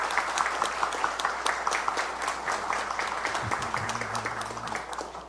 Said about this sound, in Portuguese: Eu vou pedir os aplausos para a Marta, porque me representam muito.